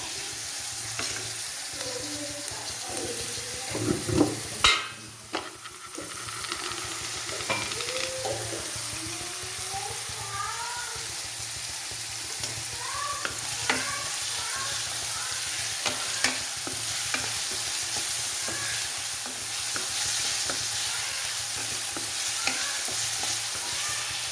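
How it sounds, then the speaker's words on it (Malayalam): Ginger sautéed with salt in a pan for chicken perettu: a loud clatter of a utensil at the start, then continuous sizzling with repeated scraping stirs against the pan and no voices. "ഒരല്പം ഉപ്പ് ഇട്ട് കൊടുത്ത് ഇതൊന്ന് ഇളക്കി വഴറ്റിയെടുക്കാം"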